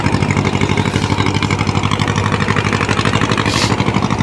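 A steamer boat's engine running at Swarupganj ghat, a loud, steady, rapid chugging throb that continues without a break.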